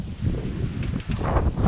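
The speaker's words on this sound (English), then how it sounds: "that wind's picking up" Wind gusting outdoors during tree-care work, a steady broadband rush with low rumble that swells and eases over under two seconds, fairly close to the microphone.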